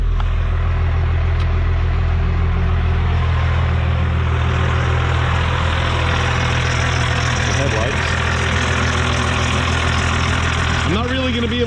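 A 1995 Dodge Ram 2500 4x4 diesel runs under the open hood, a loud, steady close-up idle with a deep, knocking clatter that drones on without talk.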